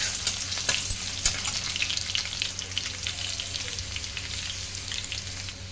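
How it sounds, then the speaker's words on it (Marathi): Crushed garlic frying in hot oil for a red amaranth bhaji, a steady close sizzle with occasional sharper crackles and pops, no voices. "तेल तापल्यानंतर त्याच्यात आपण ॲड करणार आहोत ठेचलेला लसूण, परतून घेऊया छान प्रकारे।"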